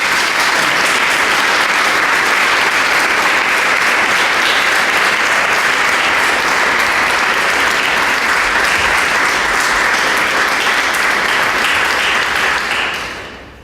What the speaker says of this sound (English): join me in giving a round of applause to Lauren.